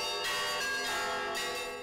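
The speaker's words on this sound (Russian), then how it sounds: "Колокольный звон обладает дивной силой, которая проникает глубоко в сердце" Church bells ring out in a festive Orthodox peal, bright overlapping metallic strikes with long sustained tones, fairly distant and steady throughout with no talking.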